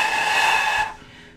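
A flute blown too far over the embouchure hole gives a single breathy, airy note, alone and close, that holds for just under a second and then cuts off.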